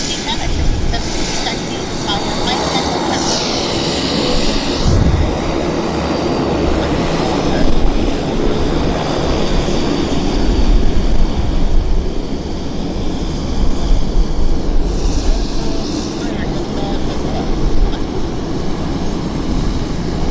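An airplane takes off at Vancouver International Airport: a broad, sustained engine roar swells and fades over about twenty seconds, fairly loud and continuous.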